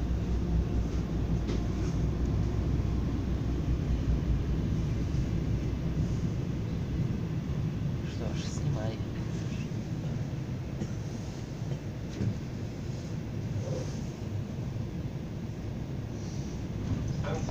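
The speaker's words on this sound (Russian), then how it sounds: "А он сейчас, а он сейчас тут пройдет этот поезд?" An ES2G electric train on the Moscow Central Circle rumbles past Delovoy Tsentr station steadily, a broad roar of wheels and motors with occasional metallic squeals and clatter, sustained throughout.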